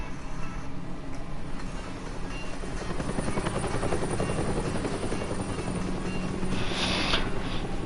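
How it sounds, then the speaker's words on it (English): A helicopter's constant rotor thrum fills the air overhead, loud and unbroken, with a hiss like rain beneath it. "Helicopter in the air"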